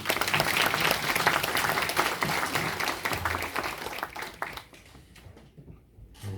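Wedding guests at a church ceremony break into dense, loud applause that stays full for several seconds, then thins and fades to scattered claps.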